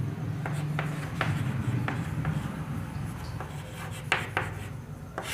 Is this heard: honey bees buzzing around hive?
no